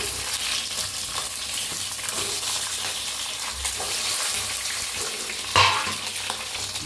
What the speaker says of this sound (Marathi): 1 चम्मच जिरं घातलंय, त्याच्यात आता मिरच्या टाकून घेऊया।